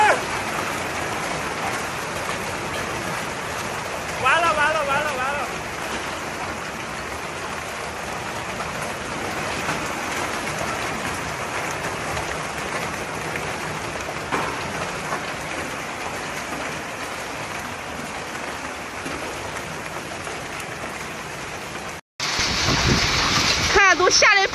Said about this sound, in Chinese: 都下的冰雹